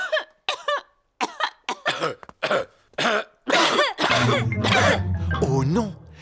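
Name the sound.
adults coughing in a Peppa Pig cartoon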